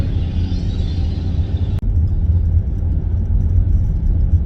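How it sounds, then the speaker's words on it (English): Semi-truck passing on the Tamiami Trail road, a loud, close low rumble and engine roar heard from inside a moving vehicle, steady throughout with a brief click partway. "we are currently getting passed by a semi-truck because I refuse to speed on this Tamiami Trail road"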